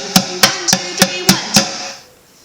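Six sharp, even hits drummed on a bucket, boomy low strikes alternating with brighter slaps in a quick steady rhythm, close and loud, then ringing out into quiet.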